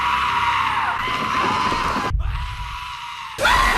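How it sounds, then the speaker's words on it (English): Loud, harsh bleating screams from goats, one long cry followed by another after a brief drop, close and raw. "do you find it funny to hear goats scream?"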